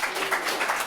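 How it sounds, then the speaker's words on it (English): An audience at a World Supercross post-race press conference in Cardiff claps in a brief, dense burst of applause, close and steady throughout the second, with no talk over it. "How about a nice round of applause?"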